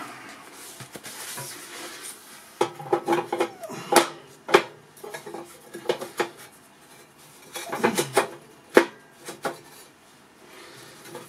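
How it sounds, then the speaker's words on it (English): A bottom grate is set down into a Monolith Classic kamado grill, heard as a series of close, scattered metallic clanks, scrapes and knocks as it is shifted and seated, with quiet gaps between and no speech. "we're going to put in the bottom grate"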